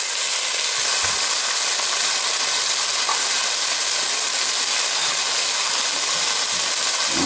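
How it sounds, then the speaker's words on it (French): Shrimp searing over high heat in a hot pan give a loud, steady, close sizzle that holds evenly throughout, with no talking. "on les fait saisir uniquement parce que ça cuit très vite"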